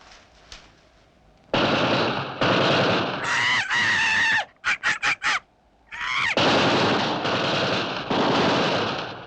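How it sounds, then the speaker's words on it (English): Rapid bursts of gunfire from a chase in the Supercar puppet TV series, loud and dense, broken by short pauses and a few sharp separate shots near the middle. "But they're shooting at Mitch."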